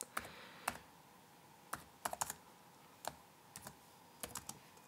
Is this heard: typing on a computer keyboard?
yes